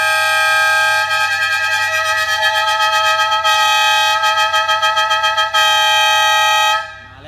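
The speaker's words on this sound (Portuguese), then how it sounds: "Tem uma buzina diferenciada, ligado no botãozinho separado" A loud triple car horn fitted to a Toyota Corolla Cross blares continuously for several seconds, pulsing in a rapid warbling pattern, close and dominant, then cuts off abruptly.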